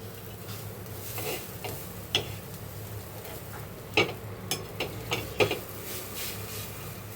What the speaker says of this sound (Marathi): मस्त असं खोबऱ्यानं चांगला भाजून घेते खोबऱ्याला